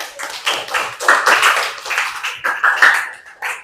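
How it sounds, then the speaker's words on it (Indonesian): A class of students claps for a classmate in a school lesson about waste sorting, a loud, steady run of close hand claps with uneven rhythm lasting the whole stretch, no talking over it. "Terus tepuk tangan buat Zia."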